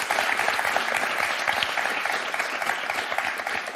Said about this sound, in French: on va vous applaudir rien que pour ça